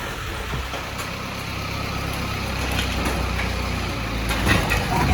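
A truck drives out from under a car tied up on it, its engine rumbling steadily as wood and metal creak and clunk, close and loud, building slightly toward the end.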